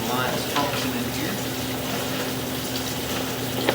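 Water runs through the plumbing lines of a house with cast iron pipes, a steady rushing flow with a faint constant hum, fairly close, with brief faint knocks.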